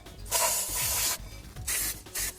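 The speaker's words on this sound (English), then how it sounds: "Now's a good time to spray down," Brake cleaner sprayed onto the front rotors of a Jeep Wrangler JKU after a brake install: three close, loud hissing bursts from an aerosol can, the first longest, separated by short pauses with faint handling noises.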